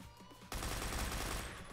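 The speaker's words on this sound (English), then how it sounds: "Just shooting out some lights." Sudden burst of continuous automatic gunfire in the shooter game Phantom Forces, shooting out lights, starting abruptly after a quiet moment and sustained loudly.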